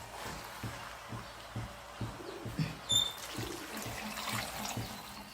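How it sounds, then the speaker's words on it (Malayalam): Water is poured into a pot of chicken for Kerala-style biryani, a quiet splashing trickle with a few soft knocks, fairly close and low in level. "ഇനി നമ്മൾ ഇതിനകത്ത് വെള്ളം ചേർത്ത് കൊടുക്കാൻ പോവുകയാണ്."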